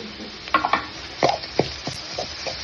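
Garlic potato fry cooking in a pan with dried chillies, garlic and cumin, a soft steady sizzle broken by a series of sharp scraping stirs.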